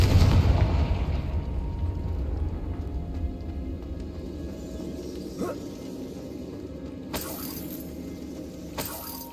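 Confringo fire spell exploding in Hogwarts Legacy, a loud low boom at the start that rumbles and fades, followed by a few sharp crackling bursts later.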